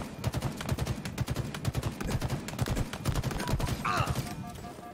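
Rapid video game gunfire in steady bursts, dense and sharp, shot after shot in quick rhythm for several seconds, with a brief electronic sound effect near the end.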